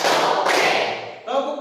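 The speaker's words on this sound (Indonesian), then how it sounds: "Tepuk 2." Classroom group clapping on a counted call: a burst of hands struck together, blended with the voices of the group chanting, a brief near and loud pattern.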